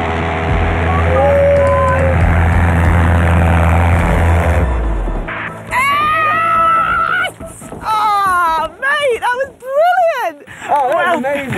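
A valveless pulsejet engine mounted on a go-kart roars loudly with a dense, droning buzz at about 20 pulse cycles per second for several seconds and then cuts off, after which excited voices and shouting take over.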